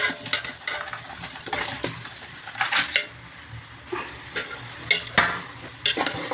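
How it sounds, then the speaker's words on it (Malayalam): Chicken pieces stir and sizzle in a pan of masala for a Kerala-style chicken curry, with repeated scraping strokes of a spoon against the pan over a low frying hiss. "ഇനി നമ്മൾ മസാലയിലേക്ക് ചിക്കൻ ഇടണം"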